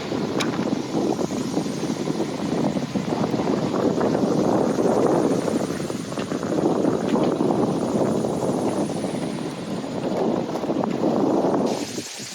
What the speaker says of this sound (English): We just dropped the anchor and the wind increased.